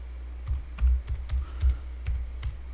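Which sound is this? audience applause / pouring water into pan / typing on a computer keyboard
typing on a computer keyboard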